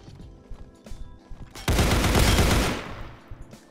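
Gunfire in the Roblox shooter Counterblox: a loud, dense burst of rapid shots lasting about a second, with scattered quieter game sounds and footsteps before and after.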